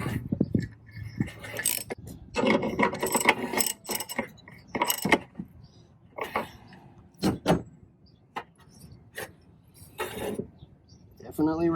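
Wrench tightening a 36mm nut on a VW bus alternator, with close, irregular metallic clicks, ratchet bursts and clanks spread throughout, mixed with occasional talk.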